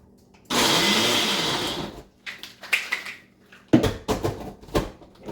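Blender grinding pecans coarsely in a short loud burst, then stopping, followed by clattering and knocking of the jar and lid in a kitchen, with a few quieter bumps.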